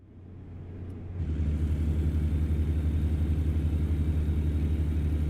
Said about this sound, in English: I usually shift when my motor stops revving up any higher.